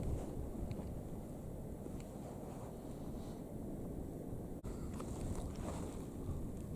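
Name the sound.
wind blowing on winter moorland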